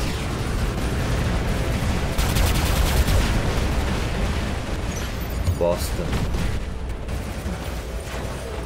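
Gunfire rattles through a War Robots battle on PC, bursts of shots and blasts layered over continuous rumbling combat noise, while a player's voice comments over it.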